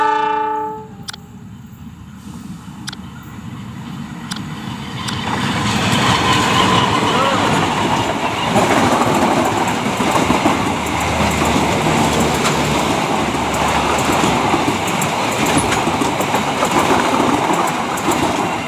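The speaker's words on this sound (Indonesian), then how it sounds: "kereta api Cikurai persiapan melintas ya" A Cikurai passenger train with Ramadan-themed stickers sounds its horn in short blasts, then rumbles past loud and close with clattering wheels, while a person talks.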